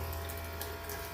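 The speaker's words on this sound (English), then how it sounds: "So this is a USB style sink, rechargeable" Rechargeable USB camping sink in a homemade camper, its small electric pump pushing water from the clean tank out the faucet as a steady, low hum with constant running water close by.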